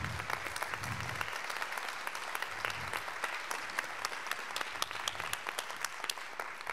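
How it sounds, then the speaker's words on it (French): Audience at a French association event applauding the volunteer organising team, steady dense clapping throughout, fairly faint and distant in a large room, with a few low murmurs beneath. "Et je voudrais qu'on les applaudisse."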